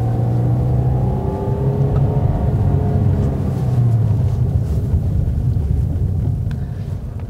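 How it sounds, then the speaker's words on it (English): A manual-transmission car drives while shifting into second gear, giving a steady, close engine rumble with drifting tones and a slight change in pitch partway through, fading a little at the end. "shift to second."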